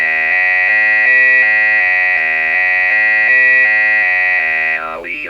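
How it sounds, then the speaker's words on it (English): Heathkit Hero Jr. robot sounds its reminder alarm, a loud, harmonically rich electronic buzz pulsing steadily in a regular on-off rhythm for about five seconds before trailing off into a warbling tone. "Option 3 is a reminder alarm."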